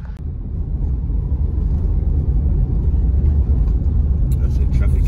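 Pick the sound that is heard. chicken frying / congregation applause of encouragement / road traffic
road traffic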